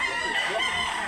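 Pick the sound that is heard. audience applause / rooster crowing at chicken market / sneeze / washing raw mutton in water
rooster crowing at chicken market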